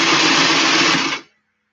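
A sewing machine stitching a flat cap runs in one loud, steady whir lasting about a second before it stops abruptly, leaving silence.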